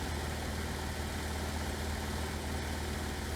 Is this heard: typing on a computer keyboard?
no